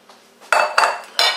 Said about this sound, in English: I'm going to put my empty bowl, I'm going to put the cucumbers back in there that I had draining it in this colander.